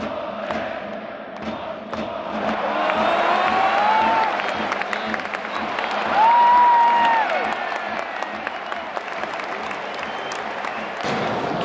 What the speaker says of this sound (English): It feels like the cheering never stops as they have coordinated chants for each player and multiple team